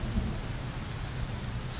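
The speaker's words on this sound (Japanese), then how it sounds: "雨降ってきちゃった。" Steady rain with a low rumble of thunder in a Japanese horror video game set on a city street at night, a dense continuous wash with low booming underneath and no voices.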